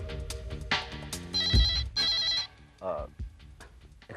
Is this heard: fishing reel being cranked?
no